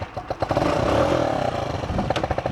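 Chinese motorcycle fitted with a new aftermarket exhaust, its engine running close by with a rough, steady mechanical note and a brief rise in revs, alone for a couple of seconds.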